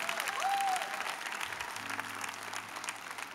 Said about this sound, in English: Can we give her a great big hand clap one more time?